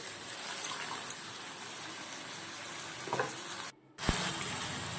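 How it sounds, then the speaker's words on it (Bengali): Banana flower curry being stirred with spices in a hot pan, a steady soft sizzle and scrape of frying, close and fairly quiet, with a brief cut near the end. "মোচাটা এবার এর সঙ্গে আমি মিশিয়ে দিলাম মশলা"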